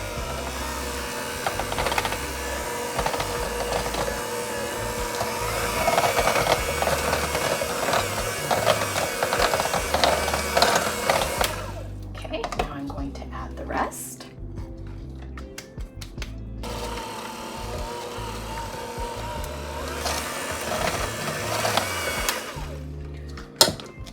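A hand mixer whirs as it blends keto peanut butter with powdered sugar, a steady buzzing motor drone that cuts off midway, then returns in shorter bursts with clatter of the beaters against the bowl.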